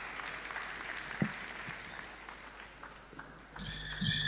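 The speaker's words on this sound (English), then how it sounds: "let's clap our hands as Professor Chinedu Nebo presents a talk" Faint, distant audience applause in a lecture hall for a speaker giving a talk on leadership, a soft continuous patter with a few sharper claps, ending with a brief noise burst.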